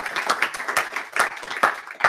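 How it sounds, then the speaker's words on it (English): Scattered clapping from a small audience at a web performance meetup in London, a few distinct claps repeating unevenly over a couple of seconds, fairly close and moderately loud. "Another round of applause for Sanjay."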